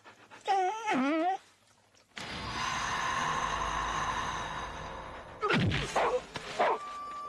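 A dog whimpers in two short high whining bursts, close by, separated by a long stretch of noisy background sound.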